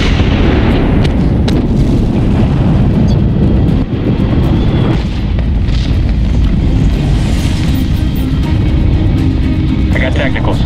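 Bombs and artillery shells explode in the Medal of Honor 2010 video game, a loud continuous roar of booms and rumbling blasts filling the whole stretch.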